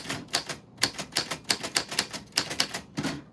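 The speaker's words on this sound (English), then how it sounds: "I'm typing away over here." Keys strike a typewriter in quick, uneven bursts of sharp clacks, close and distinct, with brief pauses between runs and no talking.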